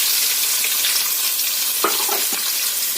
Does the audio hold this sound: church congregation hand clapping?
no